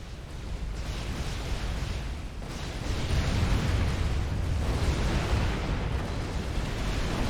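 Air bombing explosions in the Supreme Commander video game form a continuous loud rumbling roar of overlapping blasts, with a sharper surge about midway that then holds steady.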